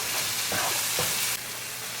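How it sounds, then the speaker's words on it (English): Masala frying with a tadka in a pan for Mushroom Masala. It gives a dense, loud, continuous sizzle, with a couple of stirring scrapes in the short stretch. "we'll cook the masala along with our tadka for half minute"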